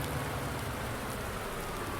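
Rain in Farming Simulator 19 falls as a dense, even hiss, constant and fairly loud throughout with no voices.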